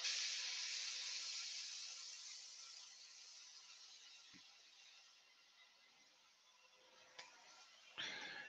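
Spirit stain sprays onto a woodturning in a long, soft hiss that slowly fades, followed near the end by a couple of short, sharper spray bursts.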